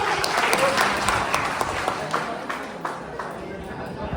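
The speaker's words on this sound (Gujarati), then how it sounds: "અને પ્રેરણા માટે જોરદાર તાળીઓ" An audience at a college farewell day applauds loudly, a dense burst of clapping that slowly thins and fades over a few seconds.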